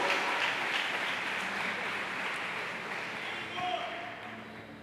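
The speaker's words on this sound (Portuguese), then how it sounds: "Aplauda a vida do Nicolas aí." Church celebration service crowd applauding a young man, a broad steady wash of clapping lasting throughout, fairly distant and even, with faint voices mixed in.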